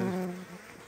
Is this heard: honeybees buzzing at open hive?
yes